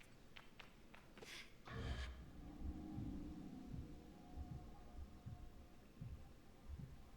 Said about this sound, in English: there's like kind of like a heartbeat every time I glide